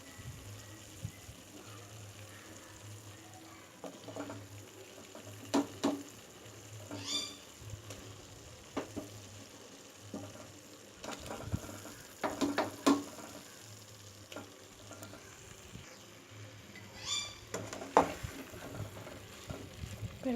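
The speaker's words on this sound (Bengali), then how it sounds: "এবার ভালো করে এঁচোড় আর আলু দিয়ে কষবো।" Green jackfruit and potatoes frying in spice paste for a vegetarian Bengali curry, a constant low sizzle under repeated stirring scrapes and occasional squeaky spatula strokes against the pan.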